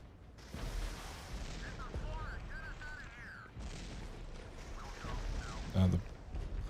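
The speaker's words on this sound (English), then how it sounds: "Alright, so the arty is hitting them in the pants." Heavy artillery strikes in the World War III real-time strategy game Regiments, deep booms and rumbling blasts, with a louder burst near the end and a voice talking over the barrage.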